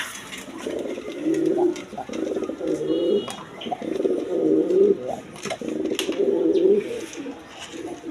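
Pigeons in a loft, including young birds, coo continuously in overlapping low, throaty rolls, close and fairly loud, with no talking.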